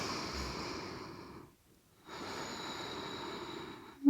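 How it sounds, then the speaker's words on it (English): A deep, slow breath during a relaxation yoga session, heard as a long airy rush of breath, a short silent pause, then another sustained breath, close and steady with no talking. "Last big breath here"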